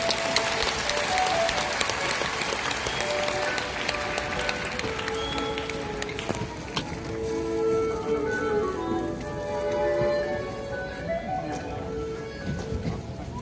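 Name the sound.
audience applause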